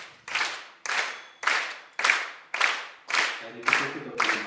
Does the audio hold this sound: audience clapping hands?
yes